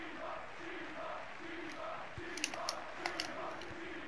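Fans in FIFA 14 on PS2 chant through an away match, a quiet, distant crowd singing in a steady rhythmic cadence of repeated phrases, with a few crisp ticks near the end.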